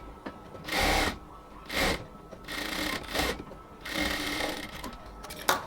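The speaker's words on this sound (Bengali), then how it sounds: "আমরা হচ্ছে এবার ফাইনাল সেলাইটা দিয়ে নিব, মানে হচ্ছে আরেকটা সেলাই দেব পুরোটা অংশ জুড়ে।" Sewing machine stitching the final seam of a blouse, running in several loud bursts with brief pauses between them, close up and alone with no talk.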